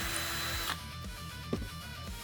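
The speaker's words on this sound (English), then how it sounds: "Mark the hole position and drill your pilot hole through." A power drill drills a pilot hole for a rivet nut on an e-bike, running steadily with a continuous whirring hum, close by, with a few faint clicks and knocks near the end.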